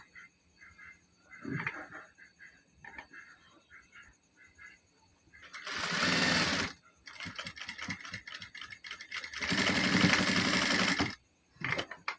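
A sewing machine stitches the hem of a pant-cut salwar in two loud, close bursts of rapid needle chatter, with softer clicks and handling sounds in between.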